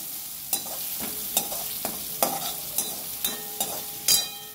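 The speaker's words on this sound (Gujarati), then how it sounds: "હવે એને આપણે તેલમાં થોડીક વાર સાતળશું, થોડોક એનો કલર ચેન્જ થાય ને ત્યાં સુધી સાતળશું." Poha ingredients sautéing in oil, a steady sizzle broken by about a dozen sharp spoon clinks and scrapes against the pan, close and with no voices.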